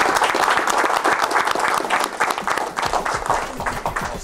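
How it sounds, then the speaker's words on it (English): At a company service awards event, an audience claps in a dense, close round of applause that runs throughout. "Please join us in giving yourself a round of applause for your good service."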